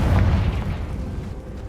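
A Confringo explosion curse bursts in the Hogwarts Legacy video game, a loud, close, deep boom that rolls and fades over a second or two.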